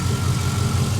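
A 2004 Chevrolet Silverado 1500 Z71 4x4 with a 5.3 liter Vortec V8 and cold air intake idles close by, a steady low rumble with no ticking or irregular knocks, alone.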